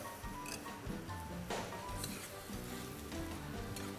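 Home-made pasta sizzles in a pan of creamy basil sauce as it is stirred, a steady close crackle with scraping stir strokes and no voices.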